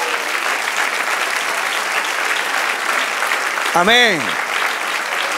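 A church congregation at a Spanish-language evangelical service applauds in steady, dense clapping, and a single voice rings out briefly near the end over the ongoing applause.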